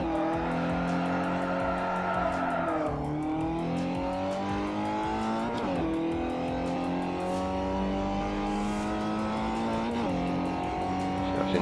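Mazda MX-5 racing in Forza Motorsport 4, its engine loud and close as it climbs repeatedly through the revs, with sharp drops at each gear change and brief tire squeals along the way.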